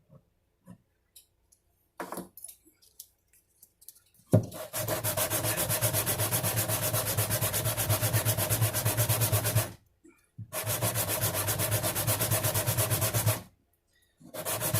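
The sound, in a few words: sanding a guitar bridge saddle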